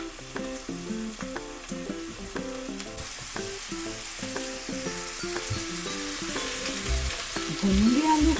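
Potatoes and onions sizzle over medium heat in a pan as aloo shimla mirch sabzi is cooked, a steady fry broken by repeated clinks and scrapes of a spoon stirring, close and moderately loud, with no talking.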